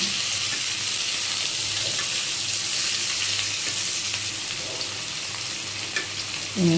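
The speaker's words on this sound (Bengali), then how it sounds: "পেঁয়াজ কুচোগুলো দিয়ে দিলাম একটু ভেজে নেব" Chopped onions fry in a pan for a soybean curry, a loud, even sizzle that fills the whole stretch, with light scrapes of stirring now and then and no talking.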